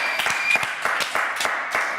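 Studio audience applause on a French TV show, with distinct sharp claps standing out from a denser patter and a steady tonal hum underneath.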